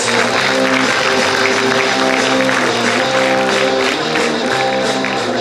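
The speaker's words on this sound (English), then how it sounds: "Give them a big round of applause." Continuous applause from a large crowd, steady and loud throughout, with a dense wash of clapping and some background hum.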